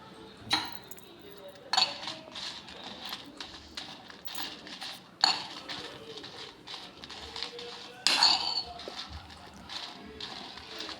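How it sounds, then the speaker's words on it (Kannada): Metal utensils clink sharply and irregularly against a pan while black pepper and spices fry in a little oil for a Mangalore-style dry fish dish, with soft background clatter between the louder knocks. "ನೋಡಿ, ಇಲ್ಲಿ ನಾನು ಮೆಣಸು ಫ್ರೈ ಮಾಡ್ತಾ ಇದ್ದೀನಿ"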